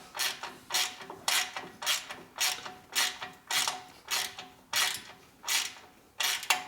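Ratchet wrench tightening a 1/4 inch bolt on a 2004 Harley-Davidson FLHT 88 twincam touring engine, a steady series of about ten close, evenly spaced clicking strokes with no talk.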